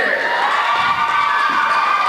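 A big crowd cheers and shouts continuously at a Division III girls varsity basketball game between Mill River and Leland & Gray, a dense, loud, steady roar throughout.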